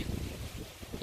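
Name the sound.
strong wind blowing outdoors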